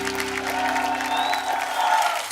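A studio audience at a comedy talk show claps warmly as a guest is welcomed onto the stage, a steady dense wash of applause with a sustained musical tone underneath, with no talk.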